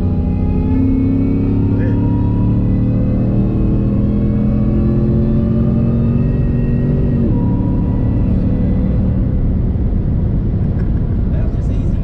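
A 2017 Ford F150 fitted with a Gen5 Whipple supercharger drives down the road, its engine and blower whine droning loud and steady from inside the cab, with pitch rising and easing through the run.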